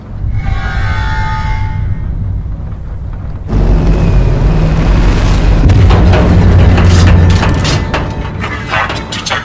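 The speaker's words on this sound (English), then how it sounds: "Impact detected on center rocket booster." A loud impact explosion strikes a rocket booster in the Tales from the Borderlands game. A quieter opening gives way abruptly to a heavy booming rumble with rattling debris that carries on and slowly eases.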